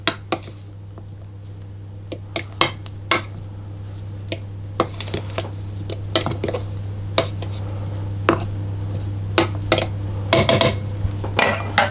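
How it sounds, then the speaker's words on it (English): Flour and butter for shortbread being stirred in a food processor bowl, heard as scattered light clinks and knocks of utensil against the bowl over a low steady hum, with no talking. "I'll just give it a bit of a stir to coat the butter a little bit to start off with"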